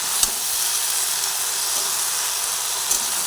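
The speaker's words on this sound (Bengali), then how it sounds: "এইভাবে কিছুক্ষণ ধরেই সুন্দর করে ভেজে নেব" Okra (bhindi) frying in a pan, Punjabi style, gives a soft, even hiss with a couple of faint ticks over a few seconds, with no talking.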